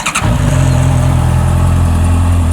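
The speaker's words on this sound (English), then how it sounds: "We'll start off with the CB650. Let's fire her up." A Honda CB650F motorcycle engine fires up with a quick starter whir, then settles into a loud, close, steady idle with a deep throbbing rumble.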